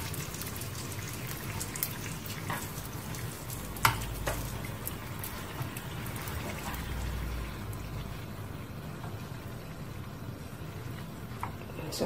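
Small sugar beignet dough balls frying in hot oil over medium heat, a steady close sizzle and bubbling that runs through the whole stretch with a few soft clinks, no talking.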